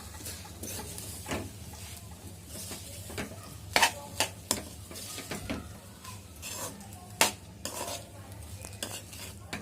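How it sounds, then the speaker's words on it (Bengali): Binni sticky rice being stirred with jaggery in a pot over a stove, a spoon scraping and knocking against the pot in irregular scrapes and sharp clinks, close and fairly quiet, with no talking. "বিন্নি ভাতের সাথে পছন্দ মতো গুড় মিশিয়ে দিয়ে চুলায় একটা হাঁড়িতে উল্টে পাল্টে নাড়তে থাকবো"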